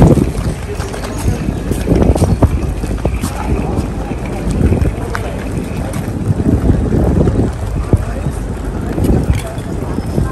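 A fast passenger boat travels at speed, its engine and hull noise steady and close with strong wind buffeting the microphone and water rushing alongside; voices talk faintly underneath.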